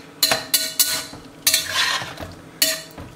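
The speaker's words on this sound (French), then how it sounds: "On mélange le tout comme ça," A utensil stirring pepper into a filet mignon sauce with Pineau des Charentes in a pan, giving several sharp scraping clinks against the pan over a faint sizzle, close and loud.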